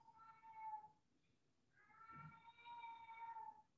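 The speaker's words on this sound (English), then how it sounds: "I don't know if my microphone is catching the cat down the hall screaming at a sock" Cat down a hallway yowling in two drawn-out, wavering cries separated by a short pause, heard faintly from a distance indoors.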